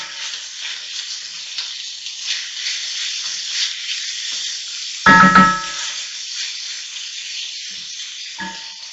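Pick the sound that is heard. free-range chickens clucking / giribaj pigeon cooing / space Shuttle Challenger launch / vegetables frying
vegetables frying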